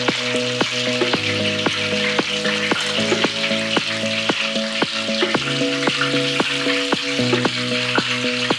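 Battered shrimp for ebi furai fry in hot oil with a loud, steady, close sizzle and crackle, punctuated by light stirring clicks and bubbling, no voices.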